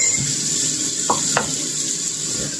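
Eggs frying in a pan for a home breakfast, a steady broadband sizzle with a couple of brief utensil clicks, close and continuous with no talking.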